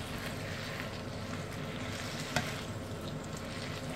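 Beef frying and sizzling in a pan while being stirred and broken up, a steady close hiss with occasional scraping, one sharper clink partway through.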